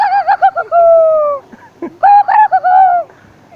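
A man imitates a hen about to lay an egg, giving a few short clucks and then drawn-out, tonal, bird-like calls, loud and close and alone.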